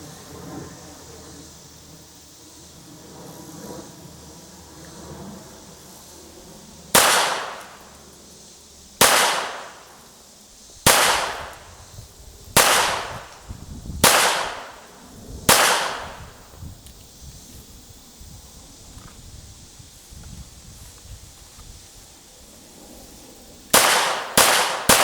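A CZ82 pistol chambered in 9mm Makarov fires outdoors: six loud, cracking reports in a quick uneven string, each ringing out with a short decaying echo, then a pause before three more rapid shots close together.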